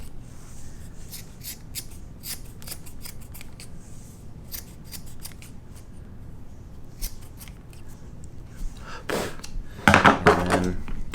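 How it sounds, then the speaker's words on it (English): Sharp metal scissors snip through braided nylon cord at the end of a single-belly bullwhip, a run of quick crisp cuts up close, ending in a louder cluster of snips. "Trim this up with the scissors, I guess."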